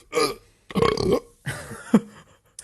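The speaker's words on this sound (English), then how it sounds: "Nope, I was burping." A person lets out a string of four loud, throaty burps in quick succession, each a short voiced rumble separated by brief pauses, close up.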